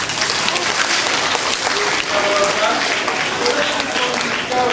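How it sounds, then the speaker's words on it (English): Audience applause at a National Science Week chemistry show, a steady round of clapping that fills the whole stretch at full strength with no voices on top. "reaction, a round of applause."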